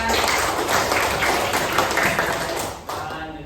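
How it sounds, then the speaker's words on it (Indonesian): Fourth-grade pupils in an elementary school classroom clap for a classmate, a dense burst of close applause that fills the room and then thins out, with no talking. "Tepuk tangan untuk Gibran."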